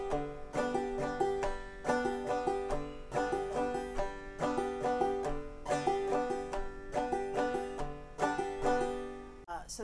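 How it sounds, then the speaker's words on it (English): Banjo picked with a clawhammer stroke in a steady three-beat waltz rhythm, bright plucked notes and brushed strums repeating evenly, close and clear. "So the basic claw hammer stroke will be like this."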